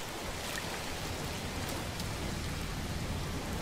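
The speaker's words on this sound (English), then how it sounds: "Oh, wow, it's raining on this planet." Steady rain falling on a planet in the No Man's Sky video game, a continuous dense hiss of drops with a low rumbling bed, even in loudness throughout and no voices.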